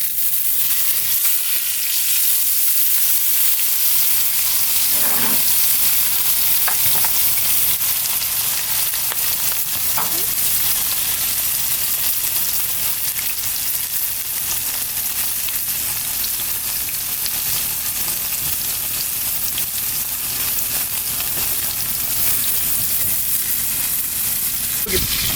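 A thick 2 lb ribeye sears in a hot cast iron pan, giving a loud, steady sizzle that runs unbroken for the whole stretch, with a few soft bumps and scrapes of handling and no talk.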